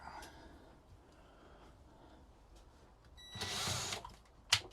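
After a quiet stretch a power drill whirs in one short burst of under a second, followed by a sharp click, fairly close.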